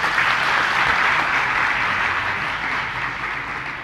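A large audience at a religious discourse claps loudly, a dense sustained burst of applause that tapers slightly near the end, with no talking over it.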